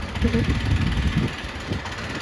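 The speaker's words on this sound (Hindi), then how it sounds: "यार कितनी प्यारी हवा चल रही है।" An outdoor breeze gusts across the microphone, producing a steady low rumble and rustle that rises and eases slightly throughout.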